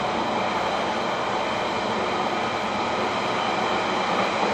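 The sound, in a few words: night train passing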